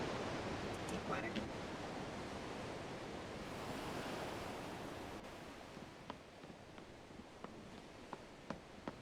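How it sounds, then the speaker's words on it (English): Waves wash and surge at a steady broadband roar in Final Fantasy XVI, quiet and continuous, with a faint voice over the start and a few soft clicks toward the end. "Water."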